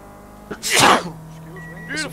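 A single sharp sneeze bursts out close to the microphone over the low hum of a racing game, Project Cars, during an online race, followed by a brief voice.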